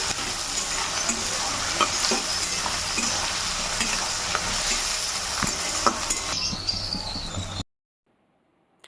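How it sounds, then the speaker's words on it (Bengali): Sliced onions fry in oil in a kadai for Bengali mutton jhol with new potatoes: a loud, steady sizzle with stirring scrapes that stops abruptly into silence near the end. "পেঁয়াজটা আমি ভালো করে ভেজে নেব।"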